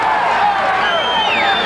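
Crowd at a Thai boxing match reacting to kicks, a continuous loud roar with rising shouts and whoops, one voice sweeping upward over the din.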